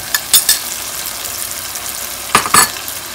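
Meat and biryani ingredients sizzling in a pot as they are stirred together, a steady frying hiss broken by a few sharp scrapes and clinks of the spoon against the pot, close and without talk.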